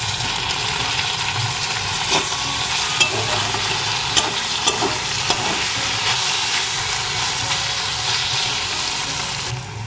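A spoon stirs tomato ketchup and spices into roti boiled in hot water, scraping and sizzling steadily in a hot pan, with a few sharp clinks along the way.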